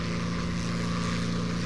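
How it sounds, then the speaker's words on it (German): Steady droning propeller aircraft engine from a naval plane carrying a torpedo in War Thunder, a continuous loud hum with a strong low tone and no break. "jetzt fliege ich mit meinem vorletzten Flugzeug, das letzte dicke Ding"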